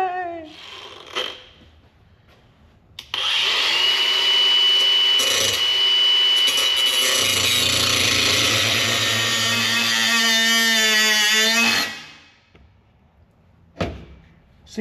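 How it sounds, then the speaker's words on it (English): An angle grinder spins up and cuts for about nine seconds during a solar and conversion-box install on an overlanding rig, a loud continuous whine that winds down at the end, with brief clatters before and after. "now we're going to play with the grinder."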